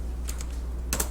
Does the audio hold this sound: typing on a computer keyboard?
yes